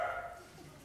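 A voice imitates a dog barking on a TV show stage, giving one short, close bark-like yelp at the start that then fades into quieter room sound.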